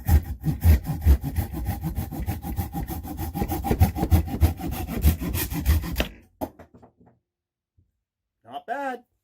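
Repaired folding saw blade cutting wood held in a vise: loud rhythmic back-and-forth rasping strokes for about six seconds, then a stop, a few faint knocks and a short spoken phrase.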